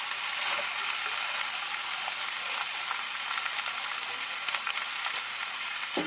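Food sizzles and pops in a hot pan on the stove, a steady bright hiss running throughout with scattered small crackles, close and fairly loud, no voices.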